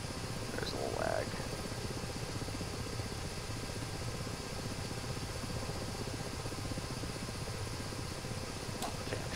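A Ka-50 helicopter hovers in the DCS flight simulator, its rotor making a steady low, pulsing thrum with a constant whine, at moderate level throughout with no break.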